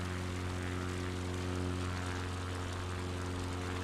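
Propeller airplane engine in Microsoft Flight Simulator, a steady loud drone with strong low harmonic tones, continuous and unchanging throughout with no talking.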